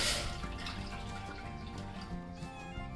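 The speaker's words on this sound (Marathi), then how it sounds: "त्याच्यामध्ये मी 1 वाटी पाणी घालते" A bowl of water runs steadily into a pot, a close, continuous splashing pour with no talking.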